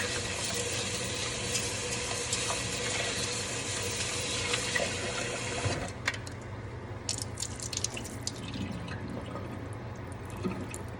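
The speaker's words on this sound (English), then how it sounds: "when you're washing your rice, make sure you wash your rice properly" Jasmine rice rinsed in water, with steady sloshing and swishing of grains and water, then lighter trickles and drips near the end, close and moderately quiet.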